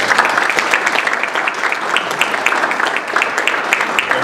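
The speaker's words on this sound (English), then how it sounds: "round of applause." An audience at a 2012 Connecticut political forum in Avon, held for candidates Roraback and Esty, gives a warm round of applause: dense, steady clapping from a sizeable crowd, loud and even throughout.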